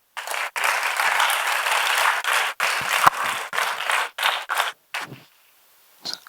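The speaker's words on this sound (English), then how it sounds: "Let us welcome them with a huge round of applause." An auditorium audience gives a round of applause at a LASSI 2024 event, loud clapping interrupted by several abrupt cuts and then dying away near the end.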